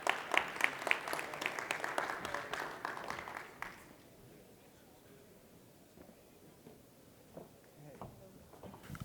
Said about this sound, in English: A warm round of applause, please, ladies and gentlemen,